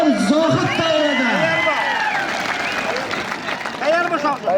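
Crowd clapping and cheering around a traditional kurash wrestling ring in a village, a steady wash of applause and babble under a loud nearby voice calling out over it.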